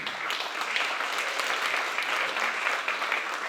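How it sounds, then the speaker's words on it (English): A school festival audience gives a round of applause for supporters, a dense, even patter of many hands that holds steady throughout. "Thank you to them. A round of applause."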